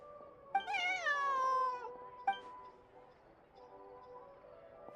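A cat gives one long, rising-then-falling meow, close and clear, followed by a short second call, with quiet background noise and some talk around it.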